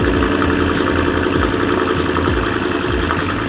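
A Ford Raptor pickup with an aftermarket exhaust idles close by, giving a steady, deep, throbbing rumble with a slight rhythmic pulse and nothing else heard over it.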